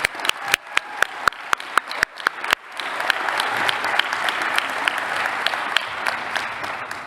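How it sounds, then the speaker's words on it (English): A graduation ceremony audience applauds: a few sharp, distinct claps first, then a broad, sustained wash of clapping from a large crowd. "another round of applause to our newly minted graduates"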